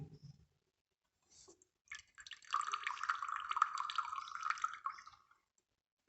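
Water overflows from a eureka can into a beaker in a lab demonstration, a faint steady trickle and drip starting after a moment of near silence and stopping before the end, no talking.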